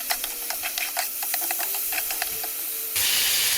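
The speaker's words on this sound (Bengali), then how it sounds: "সবগুলো চিংড়ি মাছ দিয়ে নিয়েছি, এগুলো একটু ভেজে নেব।" Shrimp frying in a pan, with a series of quick close crackles and pops over a constant hiss that turns into a louder, broader sizzle near the end.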